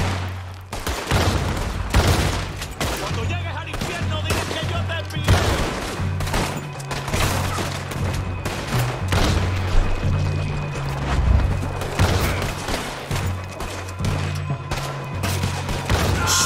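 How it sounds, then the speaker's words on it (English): A sustained fusillade of gunfire in Red Dead Redemption 2, with sharp repeated shots cracking over a low droning hum and a continuous dense clatter of battle throughout. "Shooting them down."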